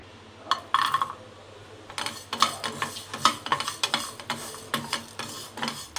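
Coriander seeds and grated dry coconut are dry roasted in a pan for a mango mutton masala, with a spoon stirring and scraping in brisk irregular strokes and faint crackling, close and clear with no talk.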